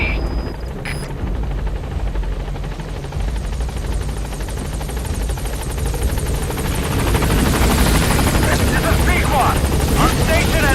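A support helicopter in Metal Gear Solid V: The Phantom Pain arrives at a landing zone, its rotor making a steady, dense whoosh that grows louder and closer toward the end, with voices underneath.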